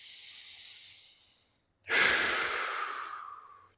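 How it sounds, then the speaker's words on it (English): Two deep breaths during a stretching routine for golfers: a softer, fading exhale, a brief pause, then a stronger, louder breath that tapers off, close to the microphone with no talking. "deep breaths starting now"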